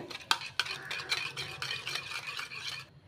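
Spoon stirring ginger, small green chillies and curry leaves into a pot of mappillai samba rice porridge, with scraping clinks and wet, thick swirling, steady and close, with no talk.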